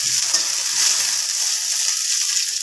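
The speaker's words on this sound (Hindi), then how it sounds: "कढ़ाई गरम हो किसी जीरा पकई नवा अल्प भुसुंगा पत्र आ प्याज पकई नेबी।" Cumin, onion and herbs frying in a hot kadhai give a steady, close hiss and crackle of sizzling oil that holds an even level throughout, with no talk over it.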